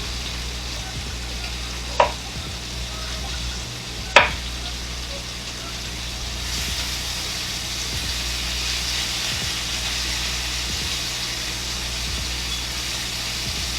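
Lamb shanks searing in a hot pan, a continuous broad sizzle with two sharp clatters early on, then steady frying hiss throughout.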